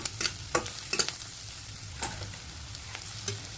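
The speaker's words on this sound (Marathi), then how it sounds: "कांदा परतून झाला, आता त्यामध्ये हिरवी मिरची, थोडीशी हळद आणि थोडा हिंग घालून घेऊया। परतून घेऊया।" Onion, green chili, turmeric and asafoetida fry in a pan for radish bhaji, giving a steady low sizzle broken by several sharp scraping stirs of a spoon, close and alone without talk.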